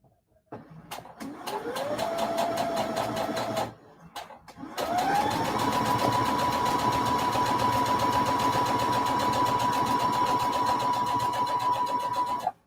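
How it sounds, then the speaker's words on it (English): A sewing machine stitches quilt fabric in two runs: a short burst, a brief pause, then a longer steady hum with rapid needle ticking that winds up to speed and stops abruptly. "And then I like to sew on this side because I'm weird."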